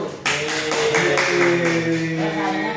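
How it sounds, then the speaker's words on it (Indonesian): Students clap for a classmates' group in a math lesson. A burst of steady, close clapping starts suddenly and keeps going evenly, with no talking over it. "Tepuk tangan untuk kelompok 1."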